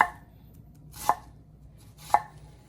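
A sharp kitchen knife chops ingredients for ackee and saltfish stuffed dumplings, giving three crisp, evenly spaced knocks on a board in a quiet kitchen, with faint hum between them.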